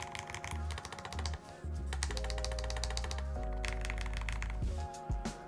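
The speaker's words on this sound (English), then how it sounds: "let's take a little typing test" Typing on a Chosfox VERO75 low-profile wireless keyboard: bursts of quick, crisp key clicks in uneven runs, close-up, over steady background music.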